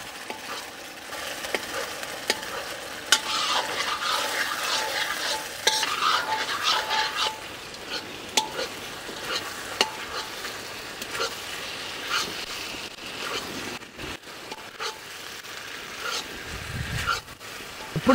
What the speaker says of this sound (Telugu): ఈ సాసులన్నీ మంచూరియా బాల్స్కి బాగా పట్టుకునే వరకు ఒక 2-3 నిమిషాలు బాగా కలుపుకోవాలండి.